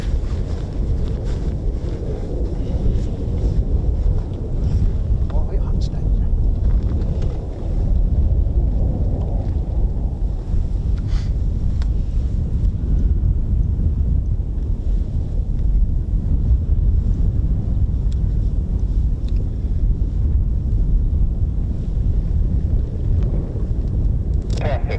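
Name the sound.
wind blowing at RAF Holbeach range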